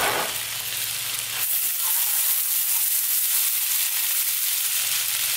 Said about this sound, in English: As that butter melts, I'm going to go in with some garlic ginger paste again.